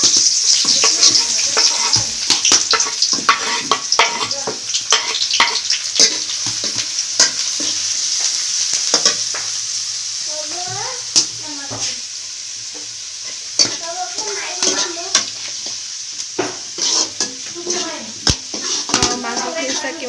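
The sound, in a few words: onion and garlic frying and stirred in oil for duck curry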